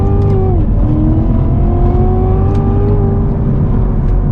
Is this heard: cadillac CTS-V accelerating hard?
yes